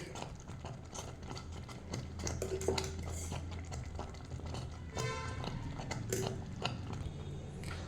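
Sweet rice for chakra pongali being stirred in a pot as ghee goes in, a steady scraping and clinking of a spoon against metal with a low continuous cooking hum underneath, fairly close and without talk.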